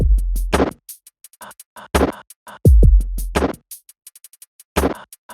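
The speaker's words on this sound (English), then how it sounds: "built a drum kit out of stock Logic samples, and then clicks, claps, and heavy distorted breathing" Short drum beat built from stock Logic samples, clicks, claps and heavily distorted breathing, with punchy low thumps, sharp ticking clicks and noisy breath bursts in a sparse, close rhythm. No talking.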